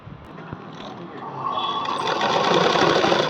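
Sewing machine stitching lace onto fabric beside piping, with a close, continuous whirring run of rapid needle strokes that speeds up and grows louder.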